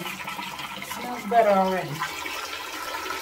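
Tap water runs and splashes as a new wig is rinsed out, with a brief louder gush in the middle, while someone talks over it.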